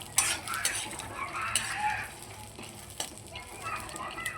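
Peanuts roast in a pan while a spoon stirs them, producing a scraping, rattling shuffle with a light sizzle and occasional metallic clinks, close and moderately loud without speech.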